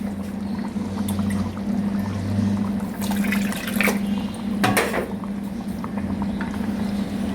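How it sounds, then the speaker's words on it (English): Water poured into a pot of sambar with moong dal on a gas stove, a continuous splashing, gurgling flow over steady kitchen hum with a couple of brief louder sloshes. "if you want, you can add water"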